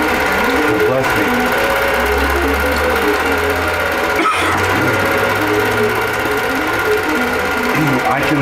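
Sewing machine stitching a wholecloth quilt, a loud continuous close mechanical whir running throughout with a brief dip midway, while a person talks over it.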